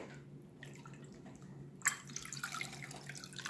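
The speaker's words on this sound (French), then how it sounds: "Donc on va venir rincer." Water splashes from a tap as a face mask is rinsed off skin, faint trickling at first, then fuller, closer splashing and dripping after a sharp knock, with no talk.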